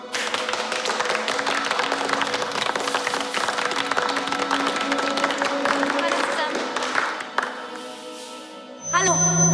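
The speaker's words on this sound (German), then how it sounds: "begrüßen Sie sie mit einem kräftigen Applaus" An audience applauds to welcome a contestant at a competition, dense steady clapping for several seconds that tapers off, followed by a short tonal sound as a voice begins.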